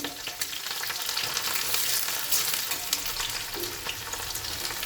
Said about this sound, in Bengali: তেলের মধ্যে পেঁয়াজ কুচানো, কাঁচা লঙ্কা চিরা একসঙ্গে দিয়ে দেবো। আমি একবার নেড়ে নেবো।